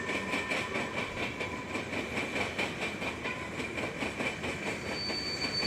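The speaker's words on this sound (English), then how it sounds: "westbound with a manifest train here" A westbound manifest freight train rolls past, its railcars giving a steady wash of wheel noise with rhythmic clickety-clack and a faint high squeal, moderately distant and continuous.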